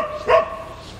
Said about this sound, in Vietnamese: Sủa sủa ầm xèo hết nè.